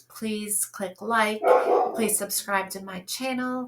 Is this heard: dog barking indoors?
yes